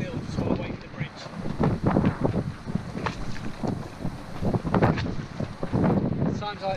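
A sailboat's engine runs at low revs while holding position, a steady low rumble under heavy wind buffeting the microphone and splashing water, with no talk over it.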